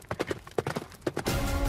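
Irregular clip-clopping of a frightened horse's hooves at close range during taming, quick uneven beats, then a burst of rushing noise at the end.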